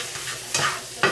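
Meat sautéing in a pan gives a soft, steady sizzle, broken by two distinct stirring scrapes close by.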